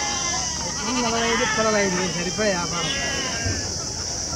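A goat or sheep gives a long wavering bleat up close at a livestock market, followed by shorter bleats, over a steady high buzz of insects.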